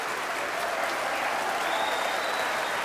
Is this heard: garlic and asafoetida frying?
no